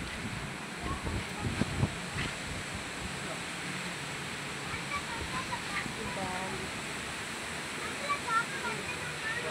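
Roaring waterfall at Srisailam with a heavy volume of water, a steady broad rush of falling water close by, with wind buffeting the microphone and bits of voices mixed in.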